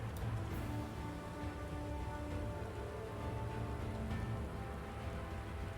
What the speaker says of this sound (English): It's raining here too.